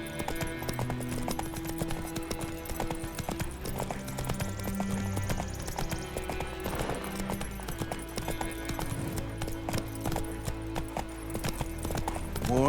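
Roach, the horse in The Witcher 3 video game, galloping with a steady clip-clop of hooves under game music and ambience, with brief voice dialogue in the mix.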